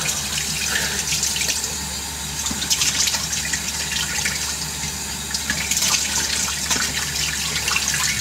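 Cold water runs steadily from a sink tap, a continuous broadband splashing and hiss that stays close and fairly loud throughout, with no voices.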